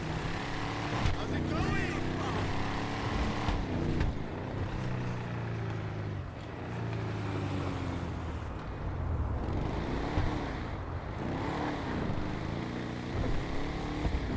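A video game truck engine, a Slamtruck in GTA 5, rumbles steadily throughout, with harmonic revving that rises and falls, while a voice talks over it.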